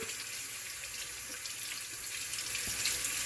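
Blackfish is washed under a running tap, giving a steady, close rush of water splashing into a sink with faint handling noises and no talk.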